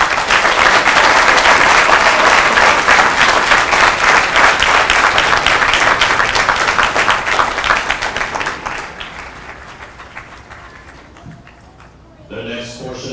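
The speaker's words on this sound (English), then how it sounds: "please join me in a round of applause for the company staff of Company H" At a Hotel Company graduation ceremony, a large crowd applauds the company staff with loud, sustained clapping that gradually fades away, after which a voice begins speaking.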